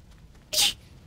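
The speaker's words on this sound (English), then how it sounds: "Whoa, oh shit, that was a Velociraptor." A velociraptor creature from a Left 4 Dead 2 mod gives one short, sharp high-pitched screech, close and loud, about a quarter second long over quiet game ambience.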